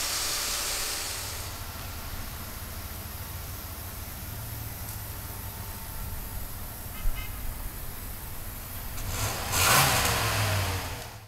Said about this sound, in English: we'll fire it up for you right now.